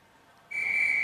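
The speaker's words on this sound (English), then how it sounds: "The ref blew her whistle to get the play back" Referee's whistle at a girls' U16 rugby exhibition match, Ottawa vs GCRA, gives a single sharp, sustained shrill blast after a quiet moment, loud and close.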